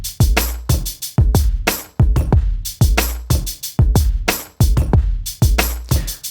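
Drum loop built from seven drum samples, punchy kicks and snares with hi-hat ticks repeating in a tight steady groove, loud and close, no talk.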